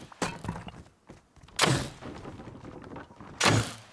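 In the survival game Rust, a twig base wall takes repeated hits: three sharp, hollow thunks spaced about a second and a half apart, fairly close, with quiet game ambience between them.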